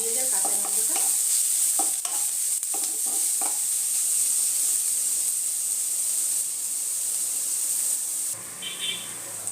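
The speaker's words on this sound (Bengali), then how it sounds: "আদা রসুনের পেস্টটার সাথে পেঁয়াজটা আমি আরও একটুখানি ভেজে নেব" Onion frying with ginger-garlic paste in oil for restaurant-style bhindi do pyaza, a loud constant sizzle with a few spatula scrapes and stirs early on, the hiss dropping briefly near the end.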